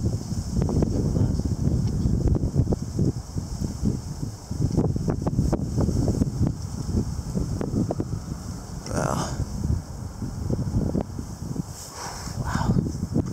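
Strong gusty wind from an arctic front roars and buffets the microphone in steady, rough surges, with brief brighter whooshes partway through.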